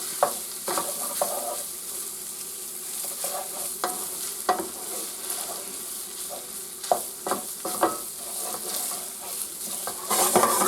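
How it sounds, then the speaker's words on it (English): Sausage sizzles in a pan for biscuits and gravy while a utensil stirs and scrapes it repeatedly, producing frequent clattering scrapes over a steady frying hiss, with no voices. "we're going to make sure all this sausage is nicely cooked"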